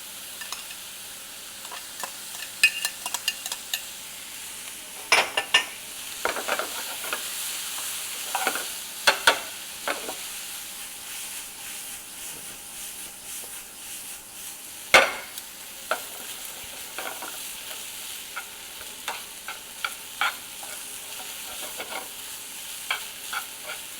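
Rice fries in a pan with a continuous soft sizzle, punctuated by scattered clicks and scrapes of stirring and one sharper knock midway. The sound is close and steady, with no talking.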